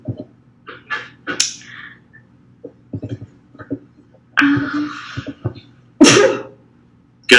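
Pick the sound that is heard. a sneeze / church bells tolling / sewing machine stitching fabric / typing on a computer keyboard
a sneeze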